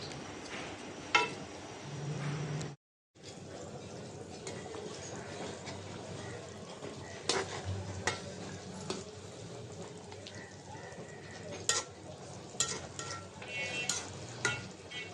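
Fish heads fry in a pan while being stirred, giving a soft sizzle broken by scraping and clinking, with a faint voice now and then and a brief gap near the start.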